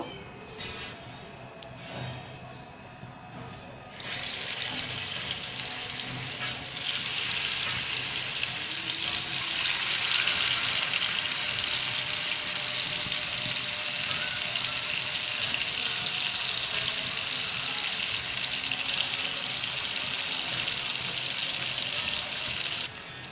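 Pangasius fish slices frying in hot oil in a frying pan, a broad, steady hiss and crackle that starts abruptly after a few seconds of quieter kitchen noise, then continues evenly and close with no speech.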